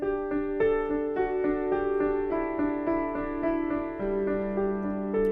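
Piano plays an intro riff, a bright looping pattern of steady repeated notes over a shifting bass line, clear and close with no talking.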